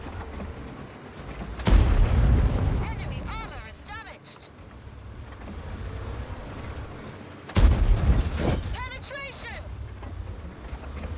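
Tank cannon shots in a Vickers tank video game: two loud, deep blasts a few seconds apart, each followed by a rolling rumble and whistling echoes, while someone talks over them.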